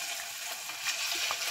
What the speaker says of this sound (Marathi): तेलाला उकळी येत राहते